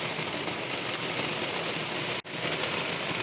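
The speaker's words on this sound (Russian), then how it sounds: "Дождь писец пошел." Heavy rain pours outside a garage as a dense, continuous hiss and patter, steady and close throughout, with one brief dropout midway and no talking.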